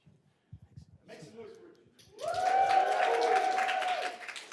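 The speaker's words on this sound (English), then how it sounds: "I love the applause before I start." A panel-discussion audience for a homeless charity talk breaks into applause before a speaker begins, a steady crowd clapping that swells after brief quiet murmurs and a voice, then holds loud and even.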